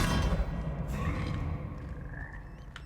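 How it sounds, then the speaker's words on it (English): A frog croaks in the Hogwarts Legacy video game, a low gurgling rumble alongside game sounds and a brief rising tone, moderately loud and close. "It's a frog."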